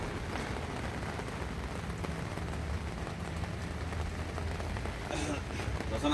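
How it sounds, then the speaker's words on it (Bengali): Wind-driven rain falls on a street where water has pooled, a fairly quiet, even wash of hiss with a faint voice in the background. "বাতাসের সাথে সাথে বৃষ্টি হইতেছে।"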